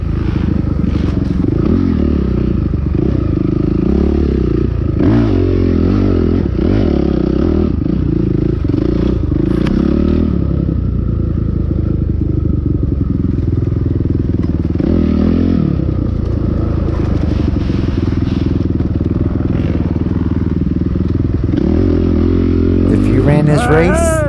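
A Beta 2020 RR dirt bike engine runs steadily through a cross-country race on a technical track, a loud continuous motor drone with rising and falling revs and some clatter, with a voice talking over it throughout.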